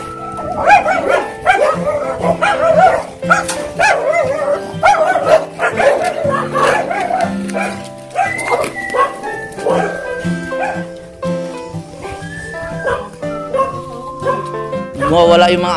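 A husky walked outdoors on a cold morning yips, whimpers and barks in repeated short bursts, close and fairly loud, with people talking to it throughout.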